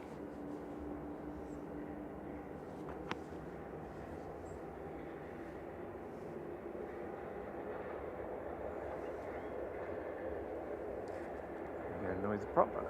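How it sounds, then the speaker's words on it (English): A faint, steady propeller drone drifts across an airport, probably a Loganair ATR 42 lining up at Manchester Airport. It stays distant and low throughout, swelling slightly at the end. "Noisy prop, I can't see one. Probably means it's Logan ATR 42 lining up somewhere."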